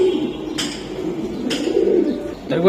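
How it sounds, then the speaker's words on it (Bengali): A female racing pigeon coos close by, giving low, soft, rolling calls in short phrases, with a couple of brief rustles or flaps in between. "এটা কি কবুতর এটা মাদি"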